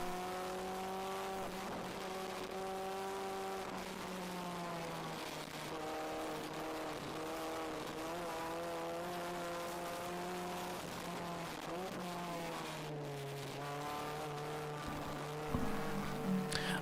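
A Mini race car engine drones steadily through a braking zone at Virginia International Raceway during an endurance race, pitch sliding down as it slows, loud and continuous with no talking.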